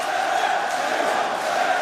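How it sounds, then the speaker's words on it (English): Packed arena crowd at a Roman Reigns versus Cody Rhodes wrestling match, roaring and cheering in a loud, steady, sustained wall of voices with no pause. "With a rabid crowd tonight"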